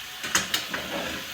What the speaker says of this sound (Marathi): आता मी 1 मिनिट गॅस मोठा करतो